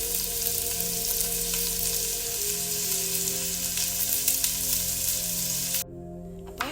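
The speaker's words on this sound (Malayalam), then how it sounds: "എണ്ണ ചൂടായി വന്ന് ഉള്ളി ഇട്ട് കൊടുത്ത്" Two large onions sizzle steadily in hot oil for a home-style party dish, a dense continuous crackle and hiss heard close up, with no speech, cutting off abruptly near the end.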